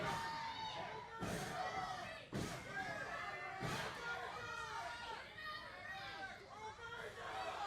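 A wrestling crowd chants and cheers in an arena, a dense, continuous roar of voices with rhythmic chanting, punctuated by a few loud thuds, probably ring slams. A commentator talks over the crowd.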